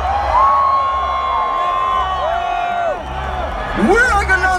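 A live festival crowd at a dance-music set cheers and whoops under loud, echoing stage talk from the front. Sustained tonal effects play beneath, and another swell of cheering rises near the end.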